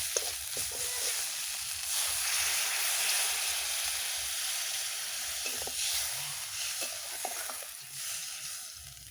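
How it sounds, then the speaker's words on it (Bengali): Water hits fried spice paste for a katla fish do-pyaza, setting off a loud, steady sizzle and hiss with steam, close up and continuous, with a few stirring clatters and no talk. "এবার আমি জল দিয়ে দিচ্ছি।"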